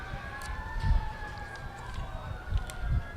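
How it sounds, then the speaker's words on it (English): Several sirens wail together during a small-town holiday light-up parade, their rising and falling tones carrying steadily at mid distance over a bed of outdoor street and crowd noise with brief low thumps. "Now we're getting some more sirens."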